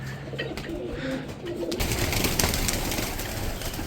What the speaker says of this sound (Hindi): ये है जी कबूतर जो घूम रहा, बच्चा है किसी का।